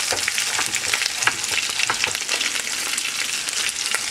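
Large cut potato pieces sizzle in a hot skillet for a simmered short rib dish, a dense, steady crackle of frying with quick pops and spits scattered throughout, close and fairly loud, no voices.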